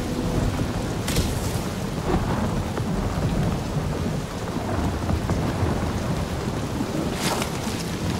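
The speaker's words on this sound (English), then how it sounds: "That is some really crazy lightning out there." Thunderstorm with lightning and heavy rain in the Guardians of the Galaxy video game: a steady loud downpour with rolling thunder and sharp cracks near the start and end, no talk.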